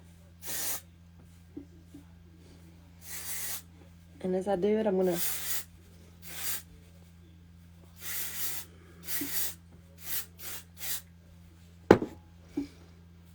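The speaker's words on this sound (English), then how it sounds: "I want to use this dry volume thickening spray." Several short bursts of aerosol dry volume thickening hair spray, each a second or so of hiss, come in an irregular series while a person talks quietly between them.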